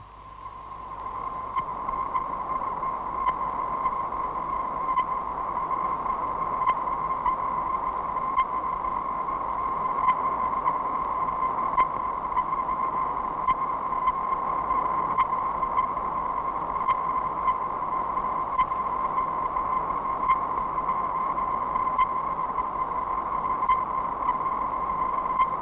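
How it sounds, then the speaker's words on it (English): Radio telescope signals bounced off the moon come through as a steady, droning electronic tone inside continuous hiss, with faint regular pulses repeating throughout. "These sounds, brought back by the giant telescope, are bouncing off the moon."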